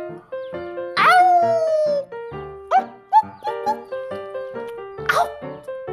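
A person's voice imitates a dog with a string of close, loud yelps and barks, one long whining howl followed by several short, choppy yips.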